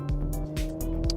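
Audi Q5 SUV engine accelerating hard, rising tones climbing through quick gear changes, loud and close from inside the cabin, with no talk over it.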